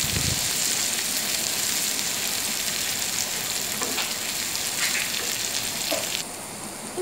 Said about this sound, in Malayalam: നമ്മളെടുത്ത് വെച്ചിരിക്കുന്ന ഇഞ്ചിയും വെളുത്തുള്ളിയും അതിലേക്കിട്ട് കൊടുത്തിട്ടുണ്ട്. നന്നായിട്ട് ഇളക്കി കൊടുക്കുക.